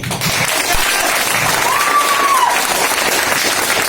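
Crowd at a motivational seminar in the city of Nawabs bursts into loud, steady applause that holds for several seconds, with a faint whistle rising briefly over the clapping.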